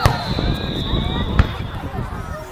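Canada Day fireworks pop and crack at a distance, several sharp bursts over a steady wash of crowd chatter and nearby voices.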